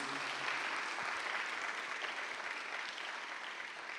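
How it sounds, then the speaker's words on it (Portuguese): Sustained audience applause in a parish church during a Catholic program, dense steady clapping filling the space at an even level throughout, with no voices rising above it. "Uma salva de palmas para vocês."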